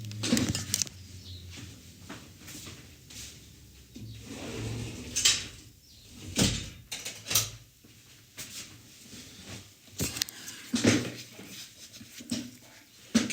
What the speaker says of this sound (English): let me just close my sliding door